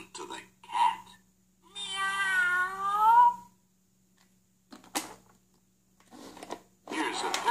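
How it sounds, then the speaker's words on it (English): A pull-string animal sound toy plays a drawn-out cat meow, a single clear wavering call standing alone, with a spoken word just before it and more brief talk after. "Listen to the cat."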